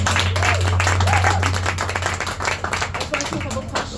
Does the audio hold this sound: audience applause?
yes